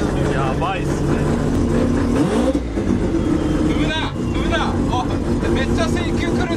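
A four-rotor Nissan GT-R R35 drift car idles with a deep, rough engine rumble, joined by short whining pitch sweeps, while people talk over it nearby.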